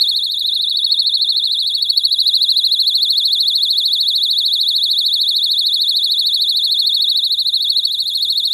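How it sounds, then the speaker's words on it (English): Piercing, continuous warbling shriek of a personal self-defense alarm sounding close by, steady and loud throughout with no pauses or talking. "The number two is the personal alarm."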